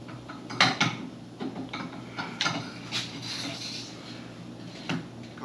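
A plastic cap is screwed back on during installation of a Rally Raid Stage 1 kit on a Honda CRF300L Rally motorcycle, giving a series of close, dry ratcheting clicks and small knocks in an uneven rhythm.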